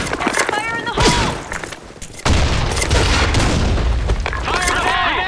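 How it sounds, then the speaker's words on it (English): A grenade blast in the shooter game BlackShot lands as a loud sudden boom, followed by sustained rumbling gunfire and noise, with shouted voices in the mix. "Grenade! Grenade!"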